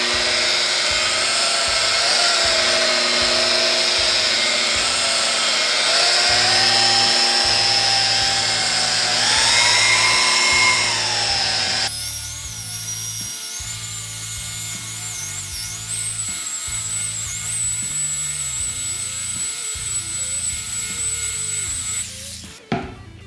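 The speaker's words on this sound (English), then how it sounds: "take your buffer, help spread out. Start on a low speed." Rotary buffer on a low speed spreading and polishing epoxy resin, a steady close motor whine with rhythmic rubbing pulses, shifting pitch partway through before winding down at the end; no speech.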